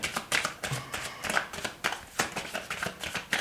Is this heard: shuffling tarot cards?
yes